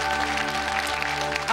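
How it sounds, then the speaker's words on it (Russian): A studio audience on a television quiz show breaks into applause, a dense, loud, steady wash of clapping over a sustained musical chord. "А в нем долгожданные аплодисменты!"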